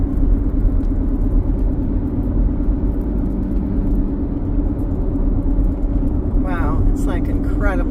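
Steady low rumble of an RV engine and road noise on a drive toward the Sonoma coast, loud and continuous throughout, with a brief high chirping sound near the end.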